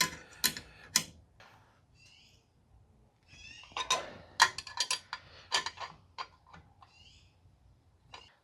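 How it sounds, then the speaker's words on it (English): Ratcheting flare wrench on a brake master cylinder fitting, giving sparse, close metallic clicks and ticks in short bursts separated by quiet gaps. "This little handy dandy ratcheting flare wrench is nice."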